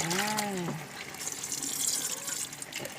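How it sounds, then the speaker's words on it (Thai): Cold tap water runs into a sink to rinse blanched potatoes for homemade fries, a steady close splashing flow after a brief voice at the start. "ใส่น้ำเย็นล้างนะคะ"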